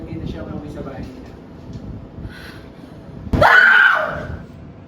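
A person lets out one loud, sudden scream near the end, rising sharply and trailing off over about a second, after a stretch of low background rumble and murmur.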